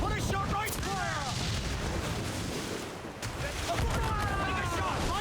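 Ship cannon fire in Assassin's Creed 4 Black Flag, with heavy booming blasts and rumble across the clip as shouted voices carry over the barrage.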